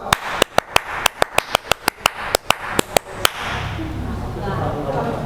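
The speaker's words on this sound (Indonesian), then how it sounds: "Tepuk pramuka" Sharp hand claps in the quick patterned rhythm of an Indonesian scout clap, some grouped and some spaced, then the clapping stops and a murmur of noise follows.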